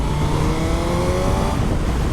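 A Suzuki GSX-R1000 K5/K6 sport bike engine revs hard while being ridden, a loud sustained high-pitched drone with rising tonal harmonics mixed with rushing wind, close and continuous.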